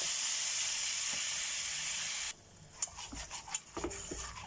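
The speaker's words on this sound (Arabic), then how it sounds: "وابدا اقلبهم كويس جدا لحد ما ياخدوا معايا كده لون ذهبي جميل" Butter and flour sizzle in a wok with a steady loud hiss for about two seconds. Then the hiss drops and close scraping stirring strokes follow in an uneven rhythm.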